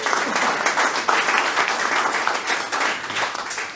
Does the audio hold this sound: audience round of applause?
yes